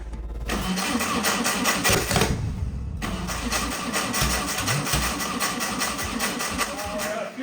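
A 300 hp turbocharged engine in an abandoned 1980s supercar cranks and catches, running rough and loud with uneven combustion, close up, under brief background talk.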